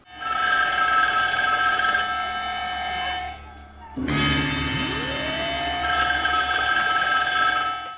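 A sustained telephone ringing tone in a 1968 Columbo TV movie scene sounds with loud orchestral music, breaks off suddenly, then resumes with a rising swell and a continuous harmonic drone.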